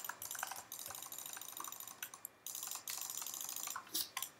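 A mouse button is jitter-clicked by vibrating the hand, producing fast, dense runs of tiny clicks close to the mic, with a few short pauses between bursts and no talking.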